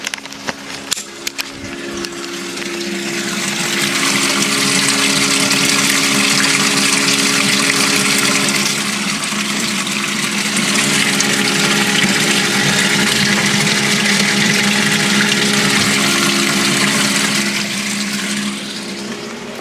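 Water pumped from an ice tank rushes steadily through intercooler plumbing on an LS-swapped Foxbody, a continuous broadband whoosh with a low motor hum beneath, running alone for most of the clip after a few brief knocks at the start.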